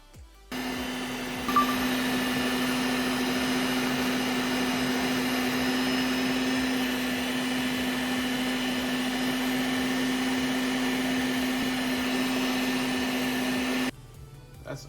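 An AAOBOSI touchscreen meat grinder runs in a kitchen while making kibbe. Its motor starts with a click, then hums at a steady, moderately loud pitch for about twelve seconds before stopping abruptly.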